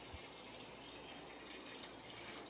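Packet milk pours from a vessel into a pot in a steady, soft liquid stream, faint and continuous throughout with no talking.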